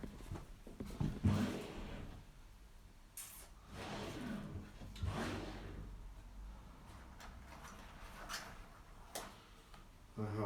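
Drawers of a home sewing or craft storage unit opened and rummaged through, with scattered knocks, slides and rattles of items moving inside, close by and moderately loud, with a person talking over parts of it.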